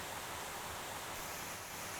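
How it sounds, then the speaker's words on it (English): Ganoga Falls, an 11-foot waterfall, pours steadily over rock into a riverbed, making a constant broadband hiss and rush with no talk. "water cascading over the falls."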